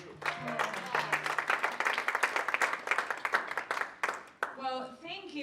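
An audience at a civic leadership session applauding a speaker, several seconds of dense clapping that fades out, followed by a voice talking.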